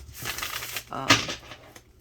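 Tarot cards are riffled and shuffled by hand in a couple of quick papery bursts with a sharper snap in the middle, close and fairly loud, mixed with light talking.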